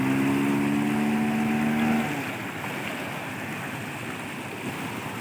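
Floodwater pours across the road between Pua and Tilesara in a steady, loud broadband rush; a low droning hum sits over it for the first two seconds, then fades, leaving only the churning water.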